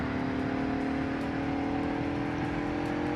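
A car in the Roblox game Greenville accelerates toward its top speed with a steady, droning engine whine holding one pitch, continuous and close, with no voices.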